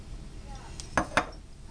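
A spoon works homemade kefir grains through a strainer into a clean jar, giving two quick close metallic clinks after a faint tap, in an otherwise quiet kitchen.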